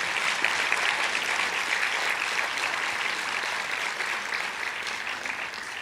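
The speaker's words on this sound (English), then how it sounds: "A round of applause again, ladies and gentlemen." Audience applause at an international peace lecture, a dense, even wash of clapping from a large crowd that holds steady and fades slightly toward the end.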